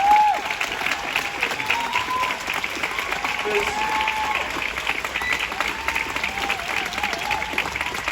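A crowd at a London film premiere claps steadily for NHS workers, a thick, even wash of applause held throughout with faint voices mixed in.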